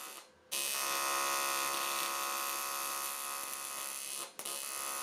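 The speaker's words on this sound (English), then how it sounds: "what I'm doing is just initiating the arc, building a puddle, putting some heat in the aluminum, and then just dabbing away" A TIG welding arc on an aluminum Hayabusa engine casting gives a steady, close electric buzz with a fine crackle, holding constant for several seconds between brief drops at start and end.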